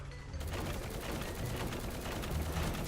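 Gunfire in the Roblox War Tycoon video game: dense, unbroken automatic fire that sounds like a whole magazine being emptied in one continuous volley, fairly loud throughout.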